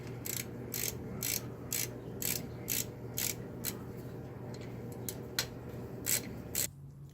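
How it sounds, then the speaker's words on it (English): Ratchet clicking in short bursts while backing out the rear differential cover bolts on a 1997–2003 Ford F-150 or Expedition, close and fairly quiet over a steady low background hum. "we're going to remove the rest of the bolts"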